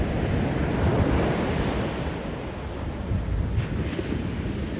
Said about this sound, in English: See the waves there in the background?